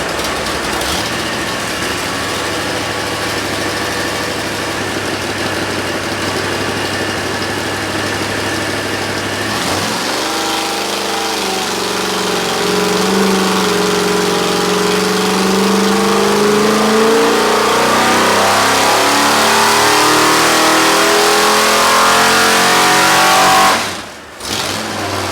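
A big block V8 engine with a flat tappet Pingle racing cam runs on a dyno, idling loudly at first and then climbing through a long, sustained rev, followed by a brief dip and cutoff near the end.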